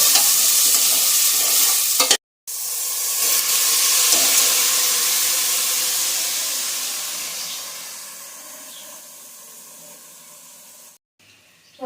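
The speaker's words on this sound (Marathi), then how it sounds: "फोडणीमध्ये भाताला जरा परतून घ्यायचं" Loud, steady sizzling and hissing of cooked rice with peas being stir-fried in hot spiced tempering oil, fading gradually, with brief cuts of silence.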